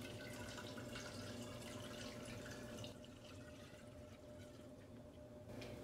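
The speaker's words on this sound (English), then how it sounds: "So I'm gonna pour all of this milk, and it's beautiful, down through that funnel and into my jar." Homemade spiced pumpkin seed milk pours through a funnel into a jar, a soft, quiet trickle and splash that thins briefly midway and then picks up again.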